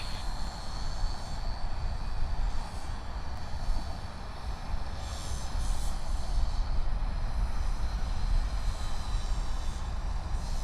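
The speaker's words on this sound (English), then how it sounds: "I'm really glad the Delta Airlines flight is taxiing this way." A Delta Airlines jet taxis at Sydney Airport, its engines giving a steady, loud low rumble and broad roar that swells slightly midway, heard continuously without voices.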